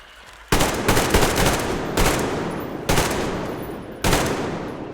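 Gunfire in the video game Metro Exodus: four loud close bursts of rapid automatic fire, each cutting off and trailing into a fading echo, with no speech.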